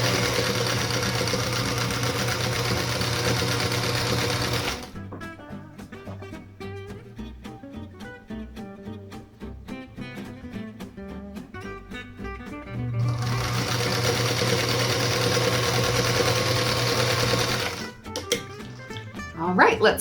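Sewing machine stitching quilt block pieces together, a steady fast mechanical whir and ticking needle run, pausing midway for a few seconds of lighter clicking before resuming, then stopping near the end.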